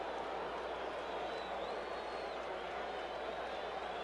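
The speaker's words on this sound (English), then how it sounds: "You heard the crowd react with Paul Sutter" A large baseball stadium crowd at the 1982 World Series Game 7 sends up a steady, distant roar that holds at an even level, with no talking on top.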